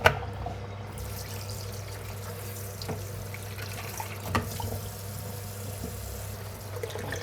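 Carrots are washed under a running kitchen tap during snake gourd and dried shrimp stir-fry prep, with a steady low flow of water, faint splashes and a couple of brief knocks close by.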